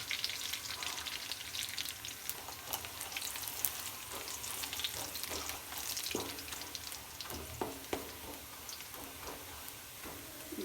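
Cumin and crushed garlic frying in a pan, with a soft, continuous sizzle broken by frequent sharp crackles and pops close by.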